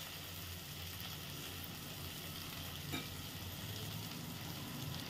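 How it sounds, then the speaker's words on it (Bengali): Spice paste sizzles steadily in a pan over a low flame for a duck egg and potato curry, a continuous soft hiss with one faint clink partway through and no speech. "এতক্ষণ আমি মশলাটা যে কষাচ্ছিলাম সেটা একটু লো ফ্লেমে দিয়েছিলাম একটু কষানো হোক"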